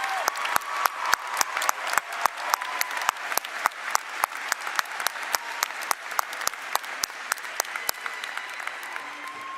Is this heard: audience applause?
yes